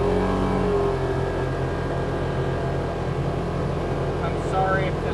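A side-by-side UTV engine, a Z950 Sport or RZR XP 1000, revs and drones steadily from inside the cab during a test drive, a loud continuous hum with people talking over it.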